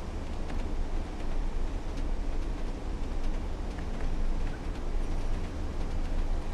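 A train engine in Train Sim World 2 on the Northern Trans-Pennine line runs with a steady low diesel rumble as the revs climb, continuous and fairly loud with no voices.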